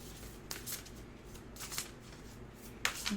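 A deck of cards is shuffled by hand in several quick riffled bursts, soft and close, with brief pauses between the flurries.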